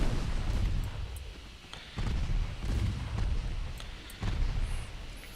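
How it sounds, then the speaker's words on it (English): Heavy booming salvos from 5-inch naval guns in the video game Ultimate Admiral Dreadnoughts, several deep blasts spaced about a second apart over a rumbling battle background. "He's got these big 5-inch guns that are hurting."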